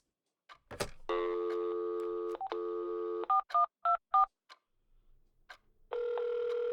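A phone keypad sounds: a long tone, several short dialing beeps in quick succession, then another sustained tone, close and clear.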